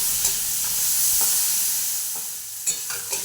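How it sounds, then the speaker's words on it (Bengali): Sliced bitter gourd fries in hot oil with turmeric and salt, giving a bright, steady hiss of sizzling up close, with a few light stirring taps scattered throughout. "উচ্ছেগুলো আছে কাটা, এগুলো ভাজবো।"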